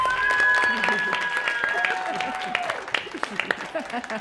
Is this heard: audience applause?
yes